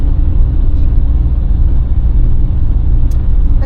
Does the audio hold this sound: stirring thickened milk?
no